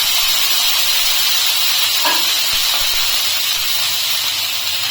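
Water sprinkled onto a hot tawa heated on high for a semolina and moong dal dosa gives off a steady, loud hiss of steam throughout.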